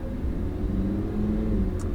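A Lamborghini Huracan at Portland International Raceway gives a low, steady engine rumble as power is gently squeezed on, a near and fairly loud drone with no talking.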